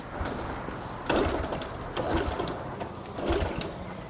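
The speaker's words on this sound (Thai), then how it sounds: "คันนี้สตาร์ทเท้านะครับ" A small motorcycle engine being kick-started for a compression test, turning over with a rapid, sputtering chug in three surging bursts of cranking, fairly close and steady, with no one talking.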